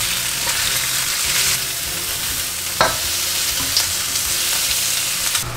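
Carrots and wood ear mushrooms stir-fried in a pan make a steady loud sizzle, broken by scraping spatula strokes and a few sharp clacks against the metal.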